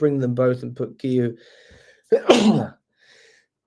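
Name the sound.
sneeze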